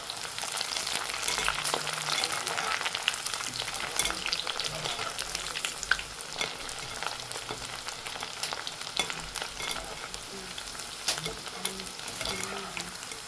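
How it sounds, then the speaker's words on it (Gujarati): Dried Bombay duck frying in oil over a high flame, a dense crackling sizzle with steady spoon-and-pan scraping as it is stirred, close and continuous throughout. "ગેસ થોડો વધારે રાખો ને એટલે તેલ છે ને બહુ બુમલામાં રહી નહીં, એના માટે આવી રીતે હલાવતા રહેવાનું."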